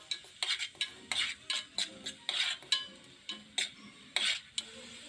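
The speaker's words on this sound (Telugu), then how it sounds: "ఈ ఆయిల్ వేడెక్కిన తర్వాత కట్ చేసి పెట్టుకున్న ఉల్లిపాయ ముక్కలను కూడా వేసానండి." Chopped onions fry in hot oil in a pot for a fish curry, with repeated stirring scrapes and clinks of a utensil against the pot in short bursts over faint sizzling, fairly quiet and without talk.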